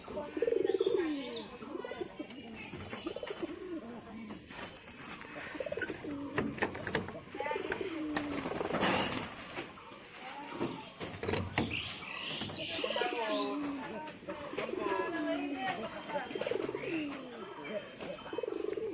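Pigeons coo repeatedly at close range in a rolling, overlapping chorus around a home loft, with faint chirps and a person talking at moments beneath the birds.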